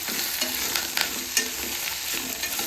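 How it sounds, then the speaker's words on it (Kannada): Ridge gourd fries in a pan for chutney while a utensil stirs it, producing a steady close sizzle broken by repeated scraping strokes and a few light clinks, with no talking. "ಈ ಥರ ಚೆನ್ನಾಗಿ ಫ್ರೈ ಮಾಡ್ಕೊಳ್ಳಿ."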